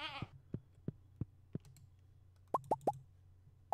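Goat sounds from the farm in the video game Stardew Valley: a quick run of soft, regular plopping pulses followed by three short rising bleat-like calls and one more at the end, moderately quiet with no speech.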